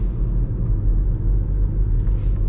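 A Skoda Kodiaq RS with the 2.0 BiTDI 240 hp diesel, 4x4 and DSG, gives a deep, steady engine rumble in Sport mode, heavy and continuous with no voices.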